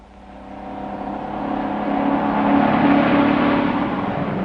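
White truck marked Dollar Van and Storage driving on a highway, a steady engine drone and road noise building slightly louder, close and continuous with no other sounds.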